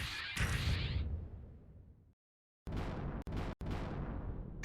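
Explosion following a shield-braced attack run in a space combat game: a loud whooshing blast with booming low rumble that fades into silence, then abrupt bursts of rushing noise cut by sharp gaps, no voices.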